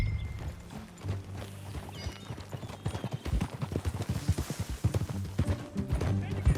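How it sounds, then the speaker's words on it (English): Horse hooves clip-clop steadily at a trot in Red Dead Redemption 2, with a brief whinny and a low musical backdrop, the hoofbeats growing louder and more rhythmic toward the end. "That a new horse?"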